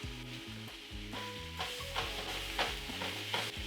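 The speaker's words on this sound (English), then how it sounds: "Now into the pan, beef. Bring the heat all the way up." Beef fries in a very hot pan for a curry beef stir-fry, with a continuous sizzle and periodic scraping and stirring bursts, close and moderately loud, with no voices.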